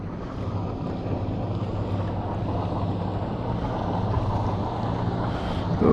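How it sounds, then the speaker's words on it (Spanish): A small twin-engine motorboat passes on open water during a fishing outing, a steady low engine drone under wind and lapping water, holding close and even throughout. "¡Qué lanchita va!"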